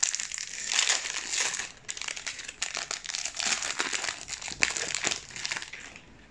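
Crinkly foil wrapper of a Pokémon card pack being torn open and crumpled close up, a series of sharp crackling rustles and crunches with brief pauses between bursts.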